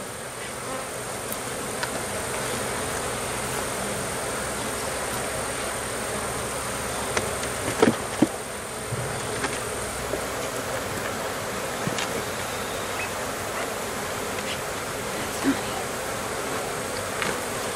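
Bees from an open hive buzz steadily and close by throughout, a constant insect drone with a few faint clicks and handling knocks.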